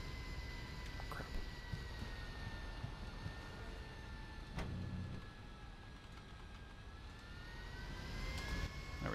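Airplane engine drone in a Garry's Mod roleplay game, a steady faint whining jet hum with a few soft clicks and no voices.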